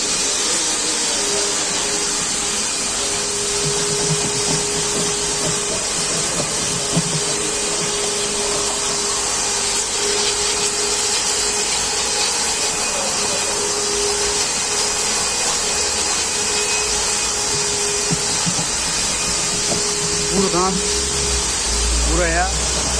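A vacuum cleaner runs continuously with a steady high whine and airy roar, with faint clunks and rustling as it works inside a Volkswagen Caddy at a car wash.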